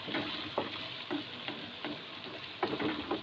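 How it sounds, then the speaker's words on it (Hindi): Chicken sizzles steadily in a pan for tikka macaroni, a dense, continuous frying hiss with occasional stirring scrapes, close up and without voices. "यहाँ पे हमारा चिकन भी ऑलमोस्ट फ्राई हो चुका है"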